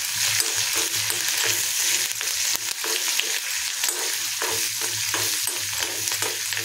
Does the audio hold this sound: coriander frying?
yes